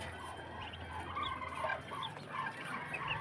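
Ducks call in a dense, faint jumble of overlapping quacks and chatter, a flock heard from a short distance without any speech.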